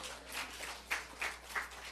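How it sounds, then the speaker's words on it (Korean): A church congregation in Seoul applauds during a Sunday sermon, a soft, dense patter of many hands at a distance with a few louder bursts. "우리 하나님께 박수 올려드려요"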